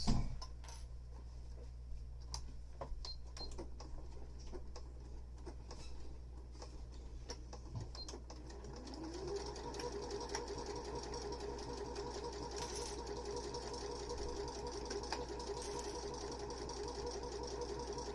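A sewing machine stitches the fabric of a full face mask, a close, steady mechanical whir with a rising tone partway through, under a low background hum.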